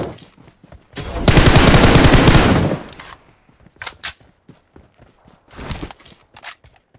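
Gunfire rips through a battle royale video game, with a long, loud burst of rapid automatic fire followed by scattered single shots and shorter bursts, along with footsteps and other game action sounds.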